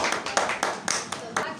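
Audience at a Defence Day celebration at a disability foundation in Pakistan clapping in a brisk, slightly uneven rhythm, with a voice speaking over the applause.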